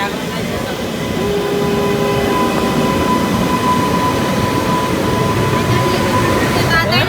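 A train rolls past close by, a continuous loud rumble with a faint steady tonal whine and clatter throughout, rising slightly at the end.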